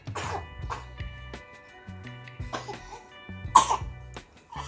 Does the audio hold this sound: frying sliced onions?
no